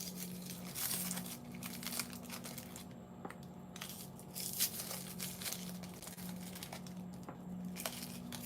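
Wrapped cupcake toppers are unwrapped by hand, giving close, irregular crinkling and crumpling of wrapper material in short bursts over a low steady hum.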